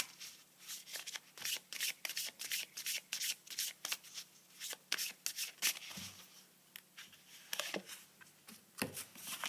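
Tarot cards shuffled by hand during a reading, a fast run of crisp riffling and flicking bursts with brief pauses between them, close and clear, with no talking.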